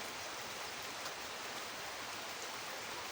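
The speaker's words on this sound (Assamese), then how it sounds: "বৰষুণ দি আছে" Steady rain falls outside a veranda, a soft, even hiss of drops that holds unbroken for about three seconds at a low, distant level, with no voices.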